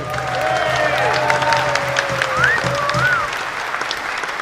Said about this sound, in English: Can we have a big retrospective round of applause